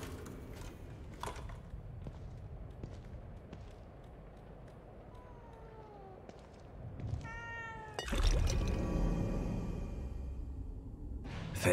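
A cat meows several times in the video game The Evil Within 2, fairly faint over a low ambient background, followed by a louder rushing, noisy sound.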